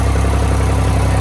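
An old, cold-natured tractor engine runs at a steady low rumble close by, a dense, even drone with no change in pitch and no voices.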